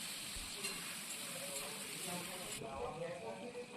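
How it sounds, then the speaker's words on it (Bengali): Chicken pieces rubbed with salt and turmeric frying in oil in a pan, giving a continuous moderate sizzle with some stirring, while someone talks over it. "নুন হলুদ মাখিয়ে সেগুলো তেলের মধ্যে এক এক করে ভেজে নিচ্ছি।"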